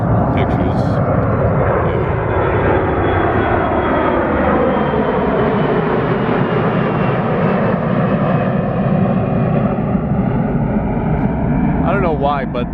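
An airplane passes low overhead at Gravelly Point, a loud sustained roar of engines that rises and falls as it passes, close and dominant, with people talking underneath.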